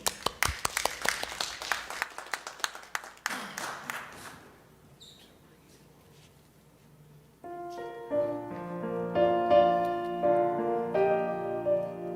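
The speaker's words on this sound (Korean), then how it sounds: "우리 박수로 한번 격려하시지요." Congregation applause at a Friday evening church service in a Korean church, dense clapping for about four seconds that thins out and fades before a choir's worship song begins over instrumental accompaniment.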